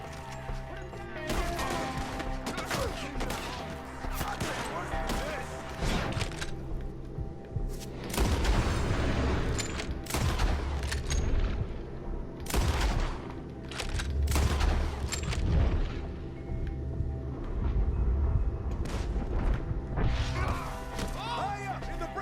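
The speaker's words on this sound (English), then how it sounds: "Shoot the ones up there first!" Gunfire in the video game Red Dead Redemption 2, with dense rapid shots, booms and crashes in a loud sustained firefight while voices shout over it.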